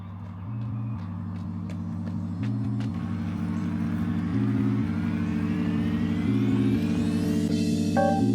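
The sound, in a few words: garbage truck driving by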